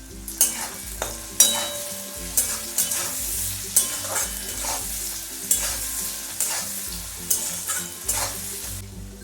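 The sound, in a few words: stirring chopped onions and green chilli frying in a pan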